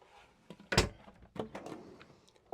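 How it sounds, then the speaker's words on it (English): A cutlery drawer in a motorhome kitchen slides open with a sharp wooden-metal rattle, followed by a second softer clatter and faint rustling, close by in a quiet room. "Cutlery drawer."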